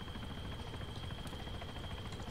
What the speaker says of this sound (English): who's flying the helicopter right now?